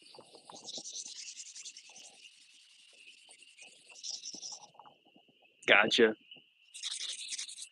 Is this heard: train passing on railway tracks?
no